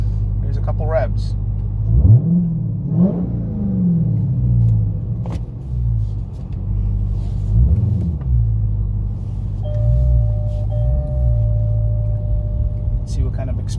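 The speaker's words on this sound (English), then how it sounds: "Here's a couple revs." A 2021 Dodge Charger Hellcat Widebody with the muffler deleted idles with a deep-throated low rumble, then revs sharply several times, each rev rising and falling back to idle.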